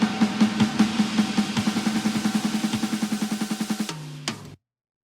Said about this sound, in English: And then live drums.